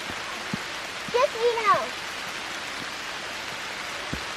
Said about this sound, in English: so luckily the rain is mostly getting on the leaves, but when you come out into a sunny spot, that's when you actually get rained on.